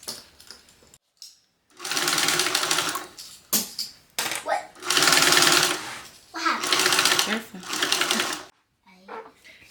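Sewing machine running in several sustained bursts to baste fabric panels at a one-eighth-inch seam allowance, with short pauses and handling noise between runs; no talk.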